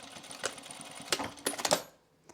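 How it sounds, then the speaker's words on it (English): A sewing machine backstitches while stitching a fabric notions case, sounding as quiet, uneven mechanical bursts and clicks in short runs, then stopping, with one faint tap at the end. "And then I backstitch right here."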